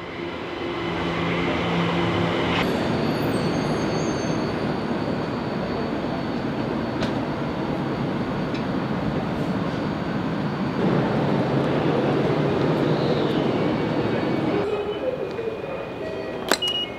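A Tokyo Metro Ginza line subway train runs through the city, its steady loud rumble and rail roar filling the car from start to end, with a few brief squeals and clunks along the way.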